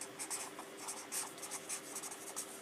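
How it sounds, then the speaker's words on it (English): A pen or marker writes on the top of a paper foldable for rectangular prisms, giving soft, close scratchy strokes in a quick uneven rhythm over a quiet room hum. "now we're going to write on the top"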